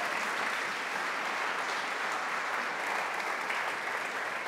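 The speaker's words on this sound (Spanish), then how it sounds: "Aplauda al Rey de Gloria." Church congregation applauding during a Sunday service, a steady dense wash of clapping that holds at an even level from start to finish with no voices above it.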